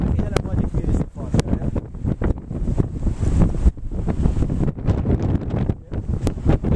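Stormy wind roars and buffets the microphone at Staten Island's south beach, with crashing surf beneath and a voice speaking briefly over the gusts.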